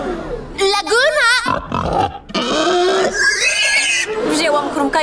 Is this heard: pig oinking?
yes